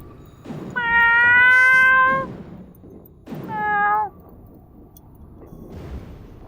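Two long, loud cat meows played in sequence as a mock musical piece, the first drawn out with a rising-falling pitch and the second shorter, followed by quiet background.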